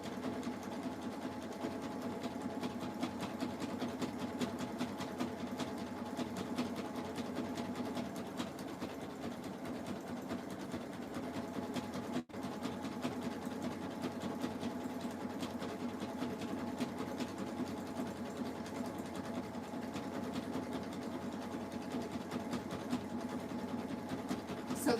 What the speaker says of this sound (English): You just need to let that fabric guide itself slowly and steadily around with the sewing machine.